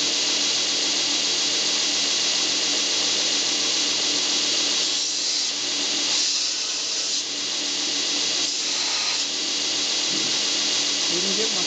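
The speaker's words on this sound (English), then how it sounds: "we're going to fire it up, and then we're going to do the tracking and grind a little piece of metal here" A home-built 2x72 belt grinder runs with a constant, loud, broadband hiss and whine, and faint scraping swells come in midway while a small piece of metal is ground against the belt.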